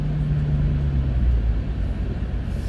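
Deep, steady exhaust rumble from a Ram TRX pickup fitted with a QTP exhaust cutout, noticeably louder than stock, droning continuously at close range with no talk.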